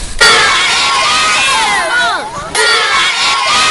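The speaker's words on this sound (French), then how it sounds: "C'est une foule d'élèves enthousiastes qui a accueilli la délégation de l'amicale des jeunes de la RTS." A large, excited crowd of schoolchildren cheers and shouts loudly to welcome a visiting delegation. The shrill massed voices swell together, briefly dip, and then surge back up.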